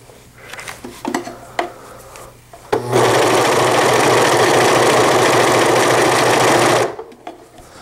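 A serger runs in one steady, loud burst for about four seconds while serging inserts, with softer handling noises before and after it.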